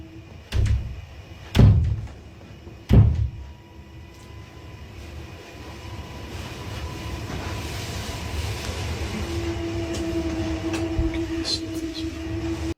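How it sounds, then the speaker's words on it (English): Three heavy, booming bangs strike a door in quick succession early on, then give way to a low, steady rumbling hum that continues to the end. "Can you hear it? It's this door."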